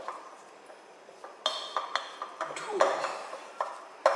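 A spatula works dumpling dough in a bowl, giving a series of light clinks and scrapes against the bowl at close range, spaced irregularly and growing busier toward the end.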